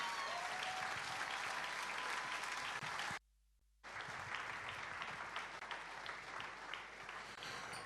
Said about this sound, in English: Please welcome with me with a round of applause, an outfit-winning round of applause, Mr. Maya Atafo.